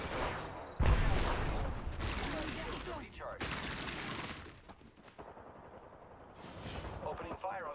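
Bursts of heavy gunfire and explosive blasts from the video game Apex Legends, loud and rapid, separated by brief quiet gaps.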